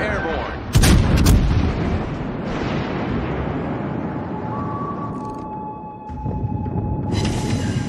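Heavy warship guns fire in World of Warships: Legends naval combat aboard the New Orleans cruiser, opening with a loud booming salvo and then a long rumbling roar with bright tonal game sounds and a voice under it.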